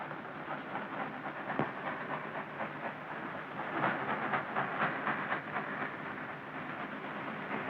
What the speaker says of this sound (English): What are we waiting for? The second train.